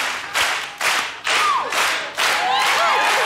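Studio audience on a game show clapping in bursts, a few loud waves of applause in a bright, busy hall.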